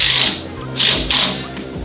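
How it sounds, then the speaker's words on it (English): Ratchet wrench clicks while a 1/2-inch bolt is tightened through a coilover on a new mount during a narrowed-track control arm install, close and fairly loud, with a few bright bursts of rapid pawl clicking. "you want to tighten the 1/2-inch bolt through the coilover on the new mount"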